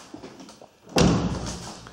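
An Audi A4 car door, under repair in a workshop, slams shut with one loud, close thud followed by a brief rattling decay.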